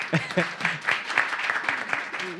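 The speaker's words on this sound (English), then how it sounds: "give her applause there." Brief burst of audience applause at an employee ownership panel discussion, claps mixed with a voice talking over them, fairly close and moderately loud.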